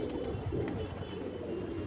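Adult pigeons and their young coo softly while perched outdoors in a cold breeze, the low murmuring calls running under steady background noise and a faint constant whine, without talk.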